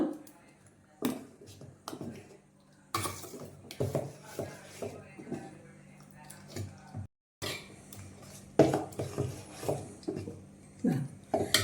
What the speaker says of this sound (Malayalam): ഇത് നന്നായിട്ട് താഴ്ത്തുമ്പോൾ മുകൾ വരെ ഇളക്കി കൊടുക്കുക